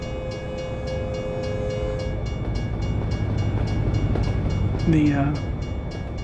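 An Amtrak train in American Truck Simulator rumbles past with a rapid, regular clatter of wheels on rail joints and steady tonal engine hum, close and continuous, a brief horn-like tone near the end, with a voice barely heard.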